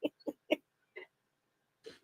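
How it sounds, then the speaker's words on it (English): A duck sound effect gives a quick run of three nasal quacks, then a fourth after a pause and a final one near the end, close and clear with no talking over it. "That was your pet duck, David said."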